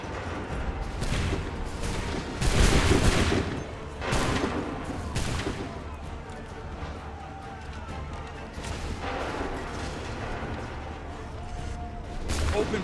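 A volley of musket fire in Assassin's Creed III on PS4: heavy, crackling blasts from a line of guns fired together, with a loud burst near the start and further rolling salvos, mixed with battle noise and shouted commands.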